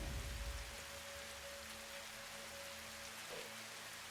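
Rain falls in the Satisfactory video game as a steady, even hiss of drops on surfaces, with a faint low rumble early on and no voices.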